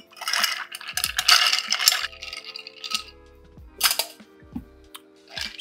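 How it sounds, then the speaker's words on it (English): Ice being stirred in a cocktail mixing glass for a honey and absinthe drink, a run of light clinking and rattling taps that come in uneven bursts, close up with no talking. "add ice and stir it down for roughly 20 seconds"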